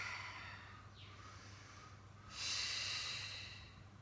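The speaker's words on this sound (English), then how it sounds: "And do some nice deep breathing." Slow, deep breaths during a floor stretching exercise, a soft inhale followed by a longer, louder exhale heard close up against faint background hum.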